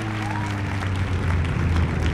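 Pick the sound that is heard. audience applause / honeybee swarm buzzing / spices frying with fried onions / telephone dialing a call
audience applause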